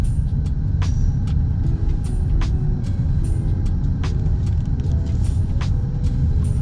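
Steady low rumble of a taxi car driving through Odesa streets, heard from inside the cabin, with faint clicks and short high ticks over a constant road and engine drone.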